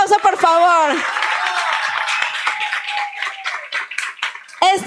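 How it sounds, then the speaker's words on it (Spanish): A live audience at a science-themed talk show applauds for a few seconds, a steady wash of clapping between a host's voice at the start and at the end. "Y Damián Larco, un aplauso, por favor."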